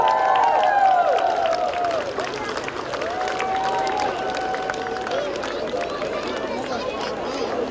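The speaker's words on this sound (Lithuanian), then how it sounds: "Paplokite gausiam Raudonkepuraitės kolektyvui. Negailėkite plungiškiai ir svečiai plojimų." An audience at a town festival parade in Plungė claps for the Raudonkepuraitė group, with dense, continuous crowd applause and chatter mixed with voices across the whole stretch.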